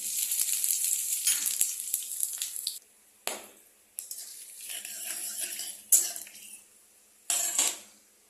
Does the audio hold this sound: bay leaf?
yes